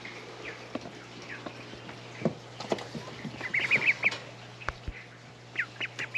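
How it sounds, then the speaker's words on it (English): Several ducks at a fiber festival farm area give short, scattered quacks over a steady low hum, some quacks louder and close, others fainter, in irregular bursts. "Ducks, they are just as gross as they are adorable."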